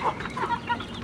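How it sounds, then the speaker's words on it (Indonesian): Free-range village chickens cluck in short repeated bursts after their morning feed, close by and moderately loud with a soft outdoor background. "Ini ayam-ayamnya guys, ini sesudah sarapan pagi"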